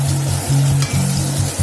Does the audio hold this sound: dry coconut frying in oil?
yes